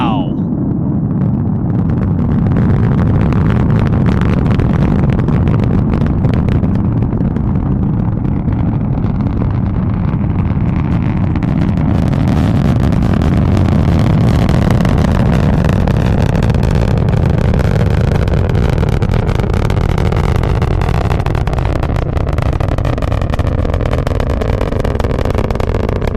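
A Falcon 9 rocket launching through fog toward orbit with Starlink satellites, a sustained heavy roar and rumble that fills the whole stretch, loud and steady with crackling texture, with a voice speaking over it.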